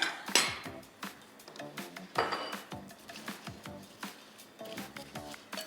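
A utensil clinks and scrapes against a bowl as salad is tossed, giving irregular bursts of metallic chinks and knocks at close range with no talking, loudest near the start.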